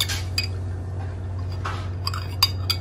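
Spoons clink against bowls in several brief, light taps while coconut gel is served into halo-halo bowls, with a steady low hum underneath and no one talking.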